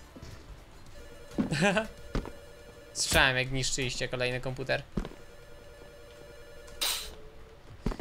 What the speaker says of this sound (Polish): a telefony dzwonią